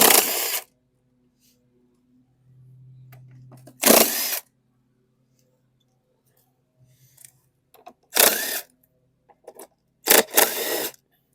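DeWalt power tool removing 10 mm bolts from the rear end of a 2022 Craftsman M230 lawn mower, four short loud bursts of whirring separated by quiet gaps, close by, with no talk.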